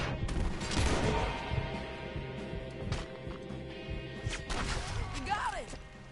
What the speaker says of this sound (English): I'm gonna shoot you off that rock!